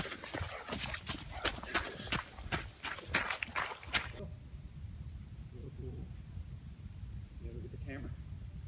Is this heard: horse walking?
yes